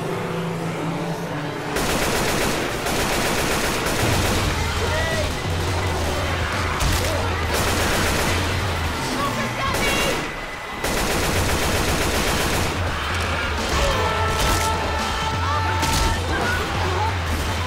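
Dense, loud bursts of gunfire from Left 4 Dead 2 rattle almost without pause, layered with game effects and background music, with a brief lull near the middle.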